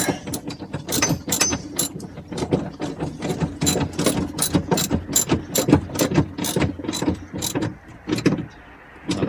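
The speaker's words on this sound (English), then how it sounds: "I'll hold the bolt with a wrench and tighten the nut with the socket on the ratchet here." Socket ratchet tightening a nut on a steering assembly bolt of a Pengor Penguin, rapid rhythmic clicking in quick bursts, close and loud, with no speech.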